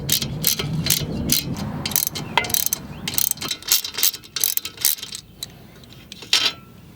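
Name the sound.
ratchet loosening 14 mm pinch bolt nut on Subaru ball joint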